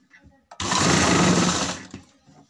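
A sewing machine stitches lace onto a garment neckline in one loud, close burst of about a second and a half, with soft handling noises before and after and a voice at low level.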